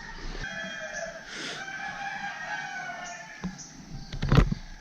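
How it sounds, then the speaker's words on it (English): A rooster crows at a villa in Ubud, Bali, a drawn-out call at moderate distance over a low background, followed by a louder brief burst of noise near the end. "There's a rooster or two."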